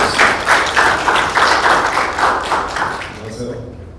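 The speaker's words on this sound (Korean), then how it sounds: "큰 박수로 맞아주시면 고맙습니다" At an academic philosophy conference in Korea, an audience welcomes the society's president with a round of applause, loud and pulsing, then fading as the room quiets and a low voice begins.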